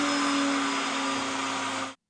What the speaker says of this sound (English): my router, as it spins, sounds louder since this happened